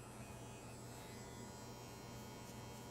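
Electric hair clippers fitted with a number 1 (1/8 inch) guard cutting hair for a drop fade: a constant, close, faint buzzing hum with no breaks.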